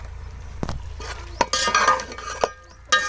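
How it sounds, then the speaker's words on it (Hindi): Pulao spices, onion and tomato fry in a pot with a soft sizzle under sharp clinks and scrapes from a spoon stirring against the metal. "इसमें हम इधर थोड़ी सी भुनाई कर लेते हैं तकरीबन"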